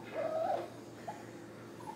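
A wet dog just out of a bath lets out a clear, high whimper up close, followed by a couple of shorter, fainter whines.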